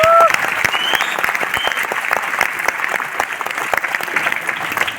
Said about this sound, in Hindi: ताली बजा दो, तो मजा नहीं।